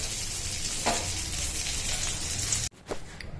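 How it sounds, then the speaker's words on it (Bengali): Eggplant fries in hot oil with a loud, continuous close-up sizzle and a faint scrape partway through, then stops abruptly before a few quieter scrapes. "আমার বেগুন ভাজা হয়ে গেছে,"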